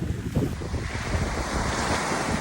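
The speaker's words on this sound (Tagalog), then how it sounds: "malaki kasi yung alon eh" Large ocean waves surge and wash close by, heavy with wind buffeting the microphone, no voices.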